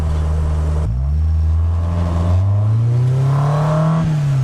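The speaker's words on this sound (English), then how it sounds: "Oh, listen to that noise. It's not exhaust, it's all induction." A Striker Classic car engine revs hard with a deep induction roar, pitch climbing smoothly through the gears, loud and close with no talking.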